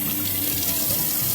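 Water runs steadily from a kitchen tap, a close, continuous splashing rush with no breaks and no voices.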